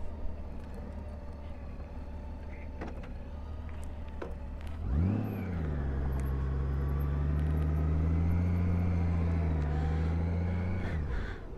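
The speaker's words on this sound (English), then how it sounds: "I will do another run in first gear, just with clutch control, and I would rev the throttles up high" A motorcycle held in first gear on the clutch revs its engine up high in an empty park, a steady loud droning hum after a quiet idle, lasting several seconds.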